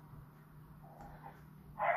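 A single short bark from a dog next door comes near the end, muffled and distant after a quiet stretch.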